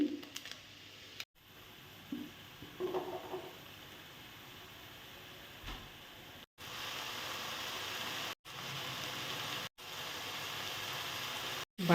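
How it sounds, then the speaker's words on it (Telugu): Onion, tomato and green chili fry in a pan with a steady, soft hiss of sizzling oil, broken by a few abrupt short gaps. "ఉల్లిపాయ టమాటా పచ్చిమిర్చి కూడా బాగా వేగాలి"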